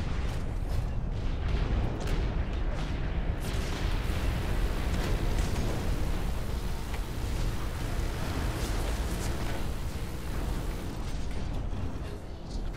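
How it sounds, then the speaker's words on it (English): Rapid automated turret fire in the mech shooter Hawken, a dense, continuous barrage of mechanical bursts and explosive booms filling the whole stretch at steady loudness, with faint talk barely under it. "My turret's going crazy shooting people, though."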